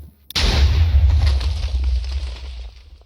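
A homing rocket spell explodes in the Minecraft modpack MC Eternal 2, a sudden sharp blast followed by a deep rumbling boom that fades over a few seconds, alone without talk.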